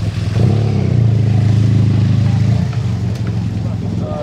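A motorcycle on the A8 motorway on the Côte d'Azur runs loud and close with a steady low engine drone that eases off as it slows and pulls over, while people talk over it.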